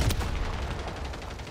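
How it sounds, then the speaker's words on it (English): A mortar shell in the Call of Duty video game explodes with a sharp, loud blast right at the start, then a rumbling decay trails off over the next second and a half. "Careful, Mortar."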